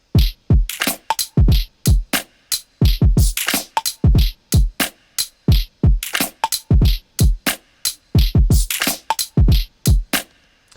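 A drum beat from the Messy Room foley drum kit, built from household-object hits, hats and shakers, plays as a punchy looping groove of sharp low thumps and crisp clicks, loud and without talk.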